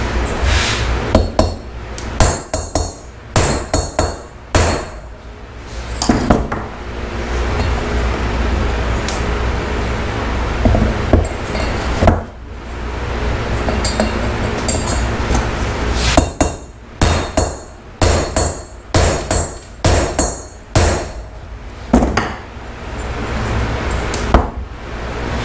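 A good-sized hammer driving out a retainer on a Honda 350 motorcycle, with loud, close metallic blows struck in irregular bursts and clustered runs, ringing with a clinking edge between quieter pauses.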